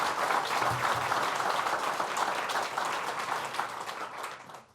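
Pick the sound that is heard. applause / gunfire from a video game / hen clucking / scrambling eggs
applause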